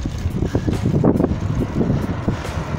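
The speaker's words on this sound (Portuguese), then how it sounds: "Tô ouvindo o vento aí, ó." Steady wind buffeting a microphone on Morro Paxixi, a low rumbling roar with gusty swells throughout, no voices.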